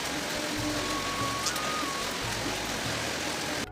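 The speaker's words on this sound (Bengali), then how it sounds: "ঠিক স্কুল যাওয়ার সময় এরকম বৃষ্টিটা নামে" Early-morning rain keeps up a steady, even hiss, soft and continuous, with a faint tonal whine briefly audible in the background.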